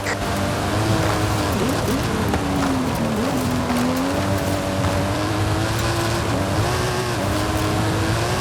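A custom-engined stunt car, the Mike Steel Special, in Forza Horizon 5, its engine droning loud and steady with a rising and dipping pitch as it revs, close throughout with no talk.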